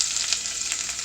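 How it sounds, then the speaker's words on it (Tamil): Sliced onion dropped into hot oil in a pan for Chettinad-style mushroom biryani, giving a steady, bright sizzle that holds evenly through the moment with slight pulsing and no voices. "இப்போ வெங்காயம் ஆட் பண்ணிக்கலாம்."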